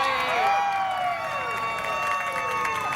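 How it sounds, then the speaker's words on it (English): A TV studio audience on a 2006 morning talk show cheers and applauds, a loud, steady wash of clapping and whoops. Sweeping whistle-like tones run through it as well. "how about a big round of applause for Kathie Wade?"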